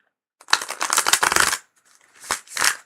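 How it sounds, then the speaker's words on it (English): Tarot cards shuffled in the hands during a live reading, a quick riffling burst of papery flicks followed by a pause and two shorter shuffles, close and fairly soft. "More shuffling is needed."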